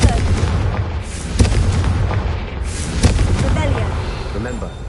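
Confringo fire spells cast in a Hogwarts video game, heard as heavy booming blasts with sharp bursts near 1.4 and 3 seconds over a dense, rumbling battle din.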